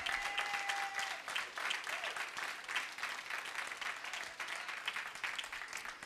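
Church congregation applauding the Lord during a Spanish-language sermon, a steady, dense clapping from many hands that fills the hall for several seconds.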